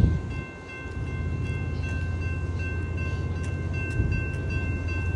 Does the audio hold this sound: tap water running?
no